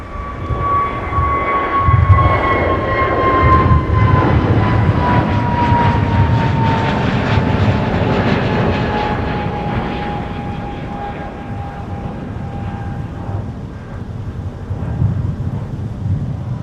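A Delta Boeing 737-900ER passes at Minneapolis–St. Paul airport in winter. A steady, loud jet roar with a slowly falling whine rises and then fades gradually, with wind rumble underneath.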